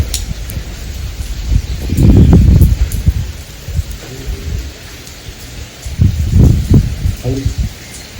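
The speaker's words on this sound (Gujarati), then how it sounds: "વરસાદ ચાલુ છે" Steady rain falls throughout at a Khodiyar Mata temple, with low rumbling bursts and a few voices talking in between.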